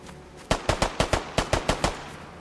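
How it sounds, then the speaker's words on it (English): Gunfire in the survival video game DayZ: a rapid burst of about nine sharp, loud shots in an uneven automatic rhythm, fairly close, with no talking over it. "I heard some gunshot."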